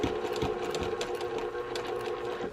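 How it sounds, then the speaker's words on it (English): Sewing machine stitching a large three-zipper pocket pouch, a steady continuous whir with rapid needle clatter running throughout, close and fairly loud with no talking. "then again I'll come back up that same line of stitching"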